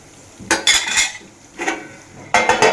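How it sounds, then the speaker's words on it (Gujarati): A spoon stirs whole okra curry in a pot, giving three separate scraping, clinking strokes against the metal with quiet pauses between them and no talk. "ચમચો ફેરવતા રહેવાનું, જેથી કરી આપણે ભીંડો છે એ તળિયે બેસી ન જાય"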